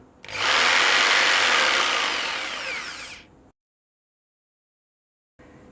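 A Makita M4301 jigsaw whines loudly for about three seconds as it cuts wood, the pitch gradually sagging, then stops abruptly into silence before faint noise returns.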